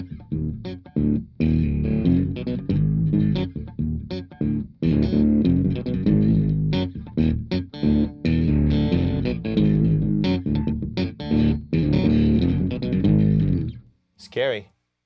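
A heavily distorted electric guitar riff played through amps in a studio, loud and continuous for about fourteen seconds, chugging rhythmically, then cuts off with a brief squeal at the end.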